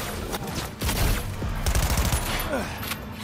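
Rapid bursts of gunfire in Cyberpunk 2077 Phantom Liberty, close and loud volleys of repeated shots fired in quick succession.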